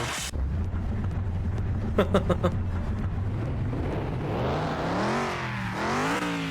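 A Jeep engine in Car Mechanic Simulator 2021 idles at a low rumble, then revs up and down in rising and falling sweeps, loud and close.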